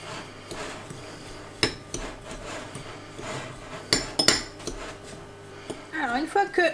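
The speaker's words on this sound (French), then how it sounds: "Et à la fourchette, on va mélanger ça jusqu'à ce que toute la chapelure soit humide en fait." A fork mixing biscuit crumbs with butter in a bowl, soft rubbing with a few sharper clinks of metal against the bowl, close and fairly quiet, with a brief voice near the end.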